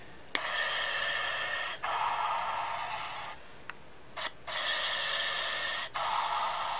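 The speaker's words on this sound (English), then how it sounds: "Like this realistic Darth Vader breathing sound." A Darth Vader mask toy plays its electronic breathing, close and steady: long hissing inhale and exhale cycles repeating several times with short gaps and a click at the start.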